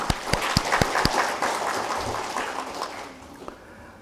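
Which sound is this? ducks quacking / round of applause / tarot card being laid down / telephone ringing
round of applause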